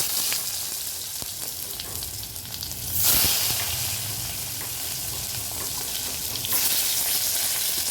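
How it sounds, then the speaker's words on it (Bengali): Salted, turmeric-coated eggplant pieces fry in oil in a wok, a steady loud sizzle throughout that flares into brighter hissing bursts twice. "দেখো এইদিকে কড়াটায় আমি বেগুনগুলো ভেজে নেব ইলিশ মাছ করার জন্য।"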